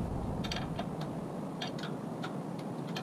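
A wrench ratchets in light clicking bursts, tightening 10mm bolts on a new Toyota 3.4 liter 5VZ-FE engine during assembly, faint and close with no talk.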